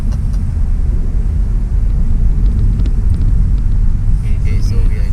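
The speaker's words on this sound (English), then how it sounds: "It's full throttle sounds good." Toyota Camry with 2.5 Dynamic Force engine and 8-speed automatic at full throttle: a heavy, steady low engine rumble with road noise from inside the cabin, loud and constant.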